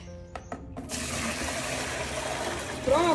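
Running water is fetched: after a few soft knocks, a steady, close gush of water begins and continues, and a voice briefly joins at the end.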